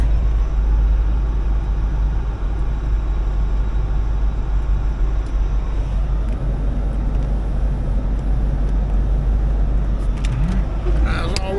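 A 1992 Chevy Corvette with a 5.7L LT1 V8 runs steadily, its loud, constant engine rumble and road noise filling the whole stretch without a break, as though the car is being driven.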